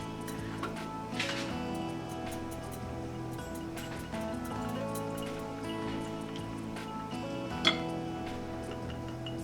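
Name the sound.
whisking egg and milk for egg wash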